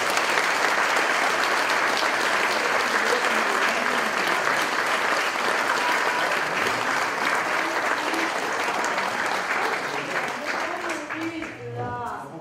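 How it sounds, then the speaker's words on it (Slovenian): An audience at a charity stage event applauds, a full sustained wash of clapping that fades out near the end as a voice begins speaking. "En aplavz."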